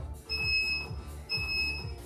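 A workout interval timer sounds two clear, steady high-pitched electronic beeps about a second apart over a pulsing low music beat, with no talking.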